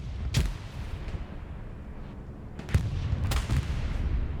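Bombing run explosions in a competitive video game match: several dull, booming blasts spread across a few seconds, with a steady low rumble of battle noise underneath.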